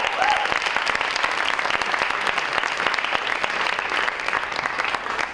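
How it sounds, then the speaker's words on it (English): Sustained applause from a large audience at a theatre festival session, dense steady clapping throughout with no pauses, loud and close. "let's give another round of applause for Michael."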